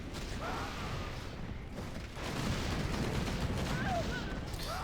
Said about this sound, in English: Gotta be careful of those mortars.